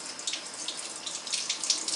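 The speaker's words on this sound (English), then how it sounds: "I mean, this is like the fun part of washing dishes." Running tap water splashes steadily into a sink while greasy dishes are rinsed and washed, a continuous close hiss with small fluctuating spatters and no talking.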